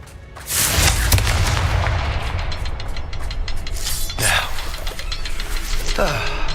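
A Confringo spell explosion in Hogwarts Legacy, a sudden heavy boom about half a second in, followed by rumbling blasts, crackling impacts and a few sharp cracks near the end.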